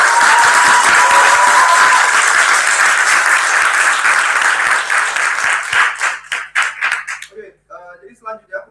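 An audience at a PPI UK talk event in Edinburgh claps loudly for the presenters. The full, sustained applause thins into scattered claps and fades out as a voice starts speaking.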